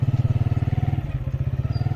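A motorcycle engine runs close and loud as the bike rolls into a building, its exhaust thudding in a rapid, even pulse with a slight rough patch midway.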